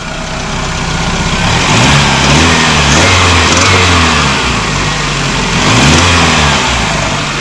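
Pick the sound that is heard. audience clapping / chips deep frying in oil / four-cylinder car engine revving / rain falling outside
four-cylinder car engine revving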